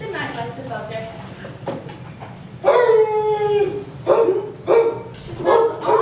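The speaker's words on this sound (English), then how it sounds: "That's her bark when she smells danger." A dog from the animated Peter Pan, the nursemaid Nana, gives loud, distressed howling barks, one long wavering howl followed by several shorter bursts, over a soft music and room background.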